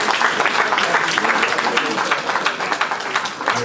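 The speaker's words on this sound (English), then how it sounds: "Please, another round of applause for him." Loud, continuous crowd applause at a Nigerian gathering where former President Olusegun Obasanjo spoke, thinning toward the end as a voice comes in over it.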